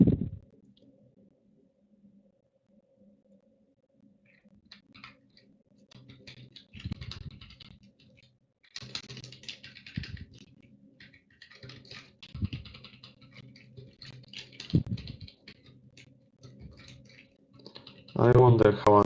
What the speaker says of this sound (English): I wonder how annoying the keyboard sounds will be.